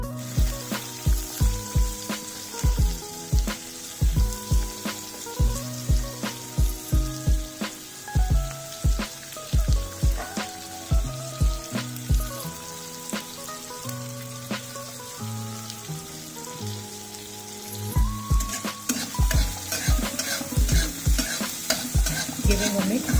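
Chopped onions fry with cumin in a pan, sizzling steadily while a utensil clanks and scrapes in repeated stirring strokes against the pan, close and clear, with music playing underneath.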